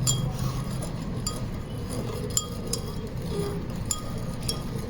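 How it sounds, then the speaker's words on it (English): A glass rod stirs soil into water in a glass container, giving light, irregular clinks and taps against the glass over a steady background hum, with no voices. "So with the help of glass rod,"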